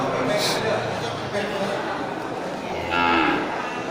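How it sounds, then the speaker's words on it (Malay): Large Simmental breeding cattle moo nearby, a low lowing call heard twice amid farmyard noise, with people talking in the background. "sapi indukan besar dari jenis sapi simental"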